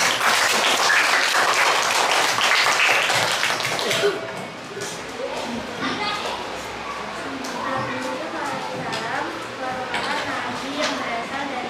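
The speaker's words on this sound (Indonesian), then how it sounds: "Kasih tepuk tangan untuk Safira" Children clap together in a classroom, a loud burst of applause for a classmate that fades after about four seconds into scattered claps under a teacher's talk.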